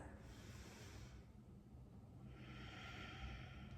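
A steady audible exhale through the nose during a yoga sequence, a soft hissing breath rising near the end, quiet and close against a low background rumble.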